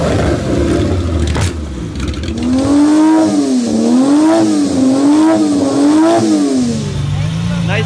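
A 1950s sports car with a V12 engine producing 276 horsepower accelerates hard, its loud engine note rising and falling in pitch through repeated wavering surges before settling, close and dominant.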